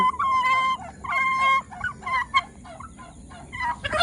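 Several ducks in a pen honk and call in repeated bursts, loud and close, with overlapping nasal cries.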